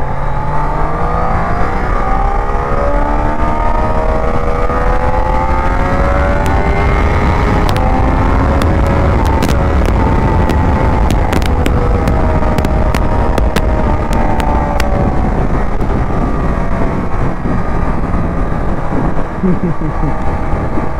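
A Triumph Daytona 660 motorcycle engine drones loud and close while riding, its pitch rising and falling through the gears with continuous wind rush.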